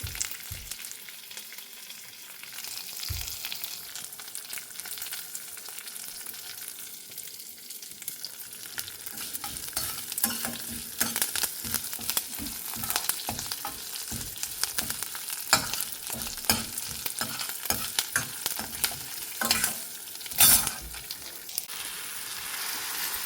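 Steady oil sizzling and crackling from a mustard-seed tempering frying in a pan for raw banana curry, with sharper pops and occasional stirring clatter, continuous and fairly close, no talk.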